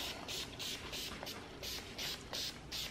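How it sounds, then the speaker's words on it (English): Short repeated bursts of aerosol sealer spray onto chalk-painted faux leather furniture hiss in a steady rhythm, about eight quick blasts, close and fairly quiet. "apply it, spray it all over your surface"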